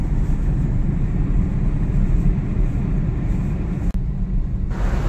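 Heavy road traffic rumbles steadily on a Delhi flyover, a loud, continuous low engine drone with no clear gaps, briefly cut by a sharp click near the end.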